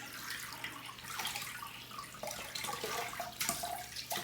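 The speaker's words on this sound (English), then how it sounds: "Let me rinse my face off with some cold water." Cold tap water runs into a bathroom sink in a steady, close rush, its tone shifting slightly as hands move through the stream, with no talking.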